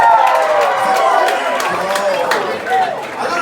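Comedy club audience at a stand-up show cheering, whooping and clapping together, a loud sustained crowd roar with scattered applause and a few shouted voices throughout.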